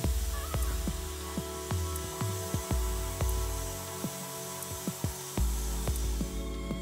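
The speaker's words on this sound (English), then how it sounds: "Using a die grinder with a reconditioning disc attachment, remove all paint and debris from the pin-in Masterlink mating machine surfaces." A die grinder fitted with a reconditioning disc strips paint from the mating surfaces of a Caterpillar large dozer's single-tooth master link. It gives a steady whining hum broken by regular sharp ticks as the disc bites the steel.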